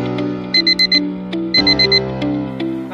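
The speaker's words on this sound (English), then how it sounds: "Yeah, it's the sound of your alarm." Morning alarm clock ringing in loud, bright repeating bursts of four beeps over a tonal chime, clear and close with no speech.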